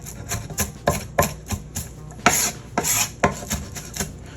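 A utensil scrapes breading off a pork chop in a series of rough, rasping strokes, some sharp and loud, others softer, repeating unevenly close by with no talking.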